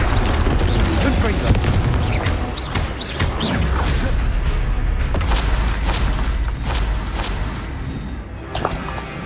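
Repeated Confringo fire spells blast during a Hogwarts Legacy battle, giving a dense, continuous low rumble broken by sharp cracks and thumps, loud and close, with voices shouting amid the clamor.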